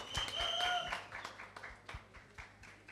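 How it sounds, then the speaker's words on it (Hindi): A crowd at a film song launch event applauds children on stage with scattered, uneven claps under loud whistles and cheering that fade toward the end. "जोरदार तालियां इन बच्चों के लिए यार"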